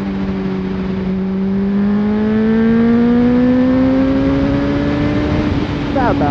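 A full sport motorcycle in Québec revs up through a long rising engine whine that climbs steadily in pitch, loud and close, with a brief crackle at the end.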